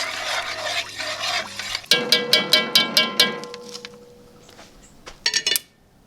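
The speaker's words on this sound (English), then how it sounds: "Give it a good stir." Pot roast stirred in a pan after seasoning, with a soft wet shuffle followed by a run of about eight sharp metallic utensil scrapes and clinks against the pan, close, then a brief final clatter.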